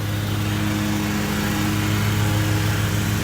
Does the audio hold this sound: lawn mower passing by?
yes